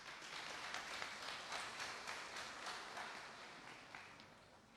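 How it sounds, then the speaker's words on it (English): An audience breaks into sustained applause for the Honorable Minister at the close of a public lecture, a dense wash of many hands clapping at steady volume that tapers slightly toward the end. "Let's give the Minister, Honorable Minister, a big round of applause."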